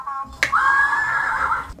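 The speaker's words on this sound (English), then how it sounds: "Oh, we got a horse neigh?" A Magic Mixies toy cauldron plays a loud electronic horse neigh, one drawn-out whinny after a sharp tap, close and clear with no talking over it.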